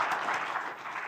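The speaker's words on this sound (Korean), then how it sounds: "긴 시간 동안 발표를 맡아주신 발표자분들께 다시 한번 큰 박수" Audience applause for presenters at an innovation forum on the metaverse, a steady even wash of clapping that holds throughout the brief moment.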